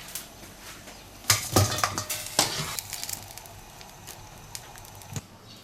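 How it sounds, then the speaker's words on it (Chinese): Blanched black-bone chicken is scooped out of a pot after boiling with scallion and ginger, giving a few sharp clinks and scrapes of utensil on cookware, then quieter wet handling sounds. "焯过水，我们把它捞出来"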